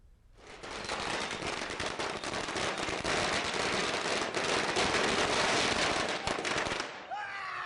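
Firecrackers burst in a dense, continuous crackling barrage at a street celebration in Malegaon, loud and sustained for about seven seconds before cutting off abruptly.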